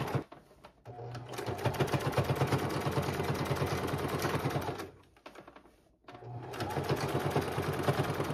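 A sewing machine stitches a ruffled elastic layer onto a pair of thrifted shorts, running in a fast, close, rhythmic chatter that pauses briefly twice before starting up again.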